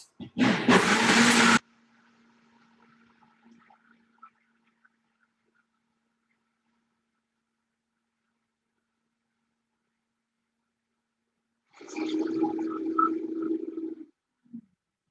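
Toasted cumin, black pepper and cloves are ground in a grinder, heard as two loud, harsh whirring bursts: a short one at the start and a longer one near the end, with near silence between.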